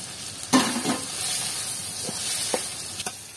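Shrimp with turmeric, salt and spices stirred in a pan over a clay stove, with a steady hiss of frying and a few soft spatula scrapes, close by.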